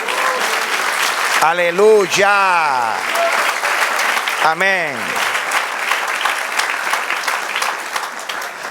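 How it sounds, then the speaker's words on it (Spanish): Church congregation applauds steadily through the whole stretch, a dense wash of clapping under a preacher's voice, with sung or shouted exclamations rising over it. "Dale un aplauso"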